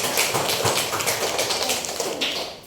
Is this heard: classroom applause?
yes